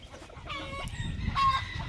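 A blue-faced crossbred rooster crows faintly in the distance over a low background rumble, its drawn-out call rising and holding briefly.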